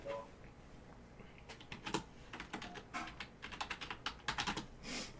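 Quick, close clicking of keys on a computer keyboard, an irregular run of taps that speeds up toward the end.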